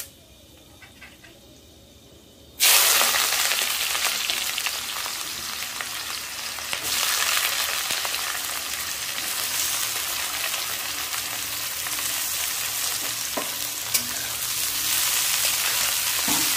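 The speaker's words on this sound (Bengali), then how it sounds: "পেঁয়াজগুলো আমরা একটু লাল লাল করে ভেজে নেব।" Chopped onions frying loudly in hot refined oil in a pan, a dense, steady sizzle that bursts in suddenly and then holds at full strength to the end, with no talk over it.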